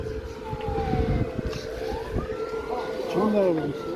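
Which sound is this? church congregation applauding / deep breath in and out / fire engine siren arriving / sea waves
fire engine siren arriving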